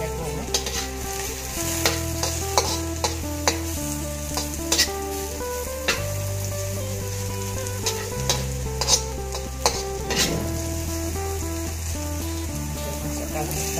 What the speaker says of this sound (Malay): Dengan sedikit daging yang sudah kita goreng dan juga anak jagung.